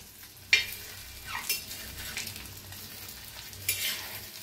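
An egg fries in a pan and is flipped to cook the second side. Quiet sizzling is broken by a sharp spatula clink and several soft scraping stirs, with another clink near the end.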